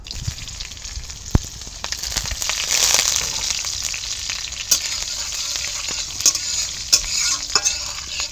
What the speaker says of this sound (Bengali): একটু ফোড়নটা ভেজে নেব